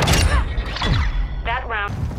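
An EMP detonates in a video game with a burst of descending electronic sweeps and a rumbling thud, then a short buzzing warble, all mixed with overlapping talk.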